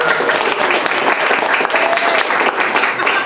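Club audience applauding newly approved members, a dense continuous wash of many hands clapping, loud and close in a room with a faint murmur of crowd beneath.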